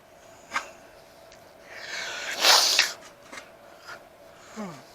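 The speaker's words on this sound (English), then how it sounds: "Got a sneeze coming on." A single sharp sneeze bursts out mid-clip, preceded by a breathy build-up and followed by faint rustling and small handling sounds.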